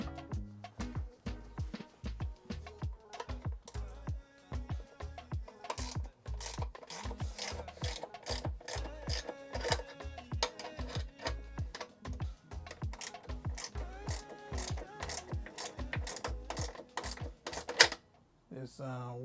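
A 5/16 wrench ratchets bolts out of the fairings on a Hollyburn GS electric scooter, making a long, close run of rapid, even clicks that barely pause.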